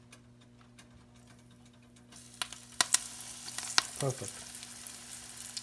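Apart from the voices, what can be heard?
eggplant frying in hot oil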